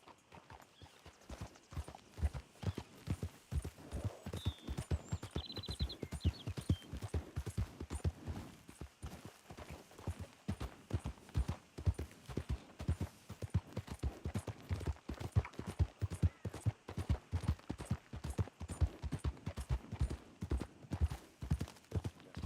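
Steady clip-clop of a horse's hooves while riding in the game Red Dead, a brisk repeating gallop rhythm running throughout at moderate loudness with no talk.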